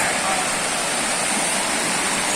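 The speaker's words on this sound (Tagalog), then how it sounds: "Ito yung tatawirin namin na ilog." Steady, full-bodied rushing of a shallow river in General Nakar, Quezon, fills the whole stretch, a constant broadband wash with no breaks or voices.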